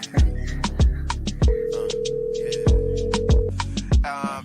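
Telephone ringing before a voicemail greeting, a loud sequence of sharp electronic tones repeating in a quick pattern with a held steady tone in the middle, no voices.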